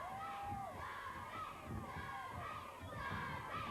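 Crowd noise at a 1984 Superstars TV sports competition in New Zealand, a steady roar of cheering and shouting held at a constant level throughout, with a few brighter whoops rising above it.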